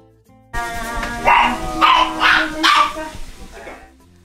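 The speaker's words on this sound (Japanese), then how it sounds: "ワンちゃん、" A poodle barks during a grooming session, four or five short, loud, close yips and barks spaced about half a second apart, with faint talk in the background.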